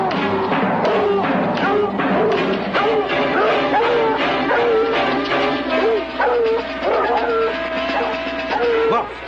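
Several dogs bark, yip and whimper close by in a nighttime chase scene from a 1981 horror film, a dense and continuous clamor of overlapping yelps with a human voice mixed in.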